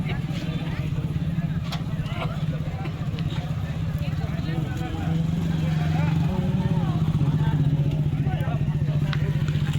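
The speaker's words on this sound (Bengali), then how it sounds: "চলো চলো বাইক স্টার্ট করো" A motorcycle engine idles with a steady low drone that swells slightly about halfway through, with people chatting nearby.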